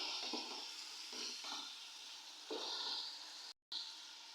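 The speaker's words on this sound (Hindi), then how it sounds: "2-3 मिनट तक मैं मटर को अच्छी तरह मैं भून लूँगी।" Peas frying in a pan for a vegetable pulao, a steady close sizzle with soft stirring scrapes, a brief dropout near the end, no talking.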